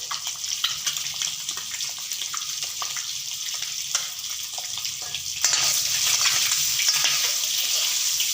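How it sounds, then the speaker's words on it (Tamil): Eggs fry with chili powder and turmeric in a pan with a steady, loud sizzle and light stirring scrapes, the hiss growing stronger partway through. "நல்லா மிளகாத்தூள் மஞ்சத்தூள் போட்டு முட்டையை போட்டு வறுத்துக்கிட்டு இருக்காங்க"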